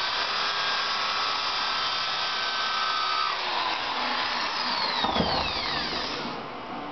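A power drill bores into a horn nock, a steady loud whine that shifts in pitch and slows near the end as the bit bites into the horn.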